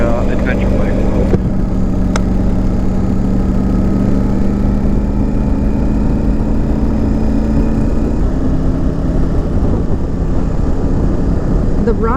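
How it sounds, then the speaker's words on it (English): A Triumph Tiger 900GT Pro adventure motorcycle engine drones steadily while riding, loud and close with a slight pitch step partway through, and a rider talks over it throughout. "you got to get used to hearing a higher revving engine."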